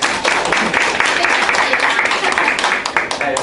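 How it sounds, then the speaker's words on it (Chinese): Applause from a seminar audience fills the space, a dense, steady wash of many hands clapping at fairly high volume throughout, without pauses. "来，掌声鼓励，掌声鼓励。"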